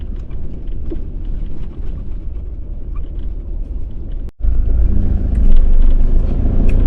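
A 4WD crawls in first and second gear over a rocky gravel ridge on the Canning Stock Route, a loud, close, continuous engine rumble with rattling and knocking from the rough surface and a brief cut midway.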